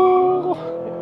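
Honda CR-V hybrid in sport mode accelerating hard from a standstill, with no launch control, a steady engine drone with strong harmonics rising in pitch, heard from inside the cabin.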